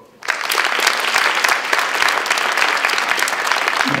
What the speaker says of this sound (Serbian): dajte aplauz vi koji živite sa vašim partnerima